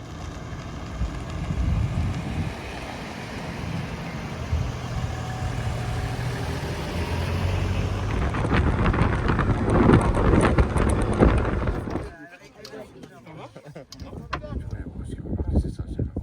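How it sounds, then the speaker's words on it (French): Headwind buffets the microphone on a desert trip through the Tadrart near Djanet, a rough, blustery roar that holds steady and then drops away abruptly near the end. "c'est le vent de face, un petit peu de vent"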